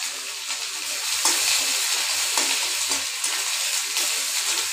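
Ginger, panch phoron and dry red chillies crackle and hiss in hot oil in a small wok for a tempering, a dense, steady sizzle heard close up, with faint stirring.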